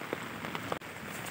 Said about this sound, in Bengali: আজকে হঠাৎ করে বৃষ্টি আসছে,